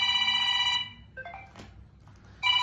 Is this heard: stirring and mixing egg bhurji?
no